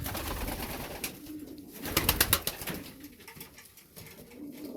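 Fighting-breed pigeons, all males, coo in a loft, their soft repeated calls close by, strongest in a cluster near the middle, with faint rustling behind and no talking.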